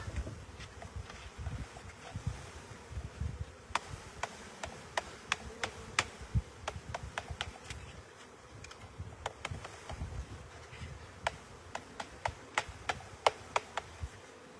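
Honeybees hum in a steady, close buzz as they are installed into a hive from a transport box, with sharp ticking taps scattered on top, more frequent toward the end.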